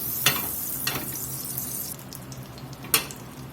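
Seasoned scallops searing in butter and avocado oil in a hot skillet, a steady sizzle with a few sharp crackling spikes standing out from the hiss.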